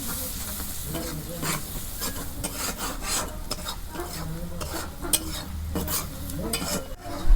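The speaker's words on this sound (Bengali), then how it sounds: "মশলাগুলো আমি ভালো করে কষে নেব" Ground salt, coriander, cumin, chili and turmeric sizzle in oil as they are stirred briskly for a fish bhuna, with continuous scraping and rubbing strokes of a spatula over a close, loud frying hiss.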